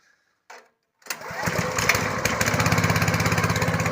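Homemade generator for a house being started: a short faint pull, then the small engine catches and settles into a loud, steady, fast putter that continues to the end.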